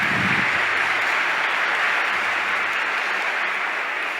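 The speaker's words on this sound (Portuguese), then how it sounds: "Uma salva de palmas para você." A crowd claps in sustained, even applause at a church gathering, broad and steady, slowly fading a little toward the end.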